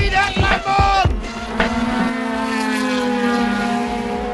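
Race cars at Le Mans roar through the Dunlop S's, several loud engine passes in the opening seconds giving way to a sustained high-revving drone of a car pulling away.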